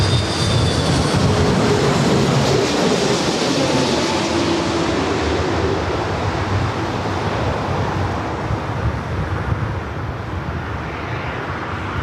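A jet airliner roars continuously while landing on runway 24 right at LAX, loud and close, with a broad engine and wind rush that slowly fades toward the end.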